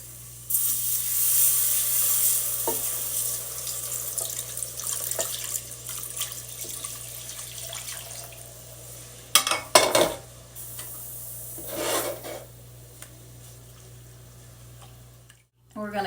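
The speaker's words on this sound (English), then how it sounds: "Now I'm going to stir in my warm milk." Warm milk being stirred into a seafood bisque in a pot, with a steady soft swishing and liquid scraping, faint low hiss underneath and a couple of louder sloshing bursts near the middle.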